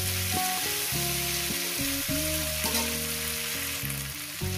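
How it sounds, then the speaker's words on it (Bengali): Potatoes and cauliflower sizzle steadily as they fry in a pan for an egg and poppy seed curry, a constant bubbling hiss with a background melody playing over it. "আর দেখুন কত সুন্দর করে আমি আলু ফুলকপিটাকে ভেজে নিচ্ছি।"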